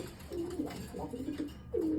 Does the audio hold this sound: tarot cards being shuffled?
no